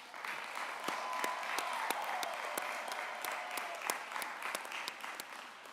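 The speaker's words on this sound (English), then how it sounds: "One more round of applause for the graduates." A university commencement crowd applauds graduates in a steady, full wash of clapping, with distinct nearby hand claps standing out and a brief whistle or cheer gliding over it.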